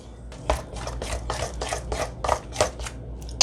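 Ground flax seeds and vanilla extract are stirred together in a bowl for vegan chocolate chip cookies, producing about ten quick, regular scraping strokes close to the mic.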